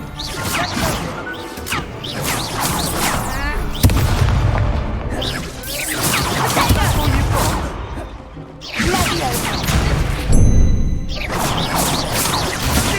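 Fiery Confringo spell blasts from the Hogwarts Legacy video game go off as several loud, booming bursts with crashing impacts, layered over continuous battle sounds and a swelling game score.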